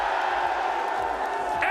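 Esports arena crowd at an Overwatch 2 playoff match, a dense continuous roar of cheering, screaming and booing from a large audience, steady and loud throughout with a brief rise of whoops near the end.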